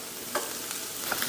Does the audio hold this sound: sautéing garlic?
yes